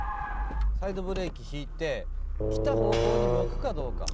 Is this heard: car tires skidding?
yes